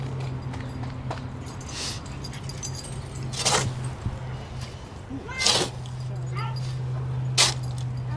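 A playful dog whimpers and scuffles in short bursts over steady background hum, with occasional jingling and people talking nearby.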